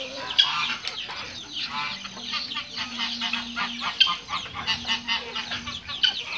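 Ducks and chickens calling together at a backyard poultry area with ducks feeding on a rooftop, a busy mix of repeated honking quacks and clucks at close range, loud and irregular with no talking.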